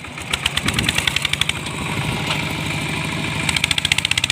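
A motorcycle engine after refuelling, idling with a rapid, even putter and then throttled up in short revs, loud and close, the firing pulses speeding and slowing.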